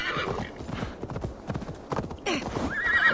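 Rhythmic clip-clop of horse hooves throughout, with a horse whinnying loudly near the end, set against the soundscape of the video game Assassin's Creed Valhalla.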